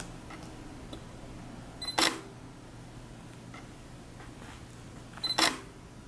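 A Sony NEX-5T camera fires its touch shutter twice, each a crisp electronic shutter click set several seconds apart against a quiet indoor background.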